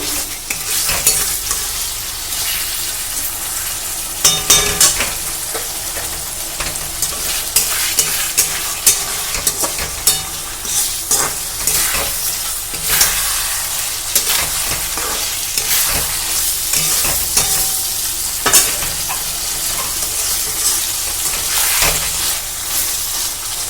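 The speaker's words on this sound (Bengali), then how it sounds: "পটলটা সুন্দর করে কষে নিচ্ছি" Pointed gourd sautéing in a pan, a continuous close sizzle with frequent spatula scrapes and stirring strokes over about twenty seconds.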